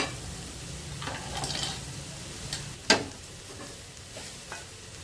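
Snake gourd and grated coconut stir fry, Kerala-style thoran, stirred in a pan, with steady soft scraping and light sizzling and one sharper scrape near the middle, no talking.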